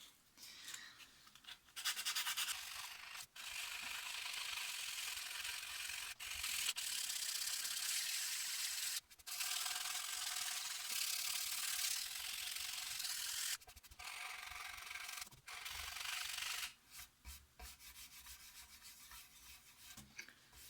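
A wooden guitar body is sanded by hand with 120 grit sandpaper, long close hissing scrubs in sustained strokes broken by brief pauses.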